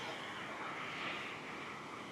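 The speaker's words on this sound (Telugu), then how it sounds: "చూడండి పెద్ద కెరటం" Sea waves break steadily on RK Beach in Vizag, a continuous broad wash of surf mixed with wind noise, with no voices.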